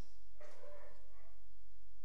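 A dog gives a single short bark, fairly close, over a steady low background hum.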